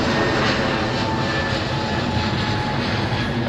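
A Boeing 777 jet airliner at London Heathrow gives a loud, continuous engine roar that holds steady and fills the whole stretch.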